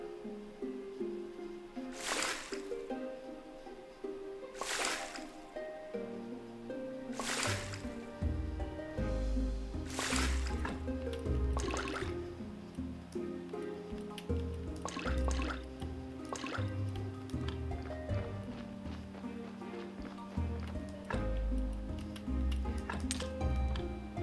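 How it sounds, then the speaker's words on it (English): Water being harvested in the video game Graveyard Keeper: a series of crisp, evenly spaced drips and liquid plinks over light clinks and tonal game effects, fairly close and alone. "So let's harvest some water."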